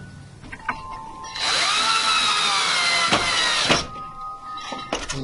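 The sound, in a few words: power drill driving screws into wooden bird feeder house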